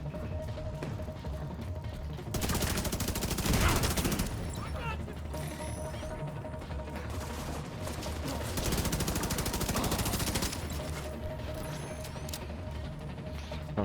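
Sustained machine gun fire rattles in Division 2, two long continuous bursts of rapid shots over background gameplay, with players talking intermittently.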